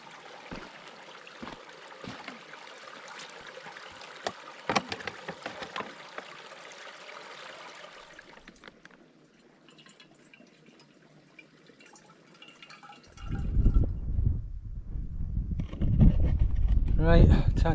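Water gushing from a mountain stream off the path near Arthur's Pike in the Lake District, collected for a wild camp; faint trickling and scattered handling clicks first, then loud, close rushing flow as the container fills.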